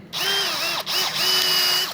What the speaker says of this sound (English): I don't like this paddle drill at all for cutting this.